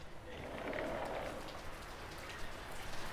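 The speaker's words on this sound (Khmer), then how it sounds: "ភ្លៀងខ្លាំងហ៎បែ" Heavy rain pours steadily in a broad, continuous hiss of drops striking surfaces, with no pauses across the short stretch and no voices over it.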